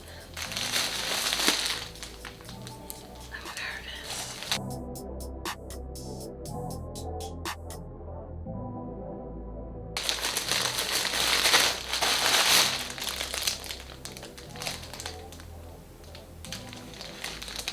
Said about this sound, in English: We're gonna cut open into this package.